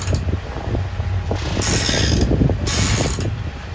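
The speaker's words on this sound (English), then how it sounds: "We have been really struggling with our boom making a ton of noise." Steady clattering and creaking of a sailboat's rigging and rattling boom under sail, with irregular knocks and rattles over a low rush of wind.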